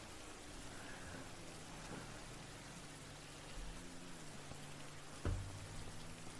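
Steady rain from a video game pours continuously throughout, with a low rumble and a brief thump near the end, no voices.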